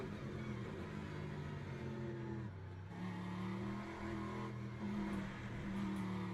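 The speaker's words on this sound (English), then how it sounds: "they're over-revving the engine on the downshifts" A race car in Le Mans Ultimate, racing at Interlagos, drones steadily with its engine over-revving on downshifts, and its pitch falls and climbs through the gear changes. The sound is faint and continuous.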